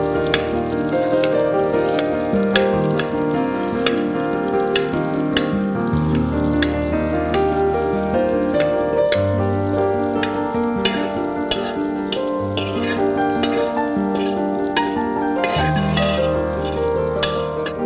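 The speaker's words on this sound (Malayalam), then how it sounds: "നെയ്യിലിതൊന്ന് പുരട്ടിയെടുത്തിട്ട്" Food is mashed and stirred in ghee in a pan for an Onam sweet, giving continuous sizzling with repeated scraping and stirring strokes in an even rhythm and no talk.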